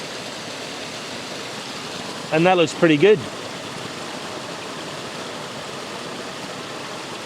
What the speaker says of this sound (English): A little bit of R6 video just of the waterfall.